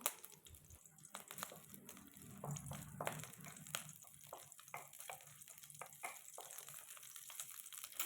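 Faint sizzling of green chilies sautéing in oil for potato appalam kootu, with scattered pops and occasional scraping stirs in a quiet kitchen.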